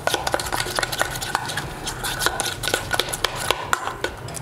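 Spice paste being stirred together with oil for a fish fry marinade, a busy run of soft wet scrapes and light clicks against a bowl, close and steady with no talking.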